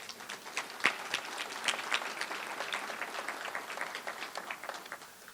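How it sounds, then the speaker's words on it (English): Scattered applause from a modest crowd at a community meeting about a new regional medical center, individual claps distinct and fairly quiet, continuing evenly for several seconds. "Give her a round of applause,"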